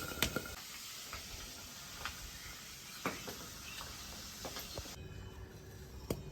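Catfish pieces fry in oil in a covered pan, giving a soft, steady sizzle with scattered sharp pops and ticks and no talking.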